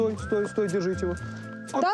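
A ranch horse lets out a long, loud whinny close by, with people talking over and around it.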